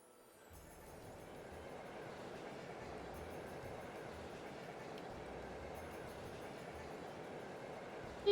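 A train in the video game Trails of Cold Steel rumbles steadily with a continuous rolling drone that builds in the first second and holds, ending in a brief sharp click.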